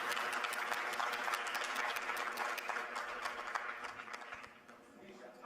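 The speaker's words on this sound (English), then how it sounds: "Can we give a round of applause to you?" An audience gives a round of applause, a brisk crackle of many hands clapping that stays steady before thinning out near the end.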